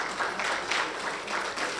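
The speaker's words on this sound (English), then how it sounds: "Please clap for them as they come up." Audience applause greeting speakers as they come up at an International Day for Universal Access to Information event, a steady, moderately faint wash of many hands clapping throughout.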